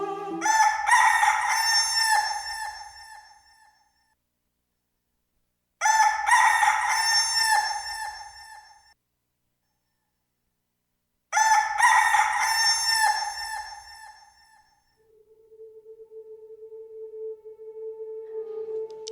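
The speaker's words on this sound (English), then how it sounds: "the rooster crowed." A rooster crows three times in long, loud, harmonic calls, each separated by a few seconds of silence, followed by a softer, steady tone at the close.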